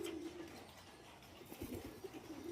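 A white pigeon coos softly in a loft among other birds, low throaty calls repeating faintly at a distance under quiet background noise.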